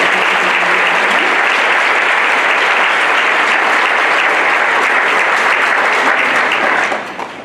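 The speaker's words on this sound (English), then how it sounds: "So we'd like to give you a nice round of applause." Loud, sustained audience applause for student poetry contest winners at an evening school gathering, a dense wash of clapping that holds steady for about seven seconds before fading out.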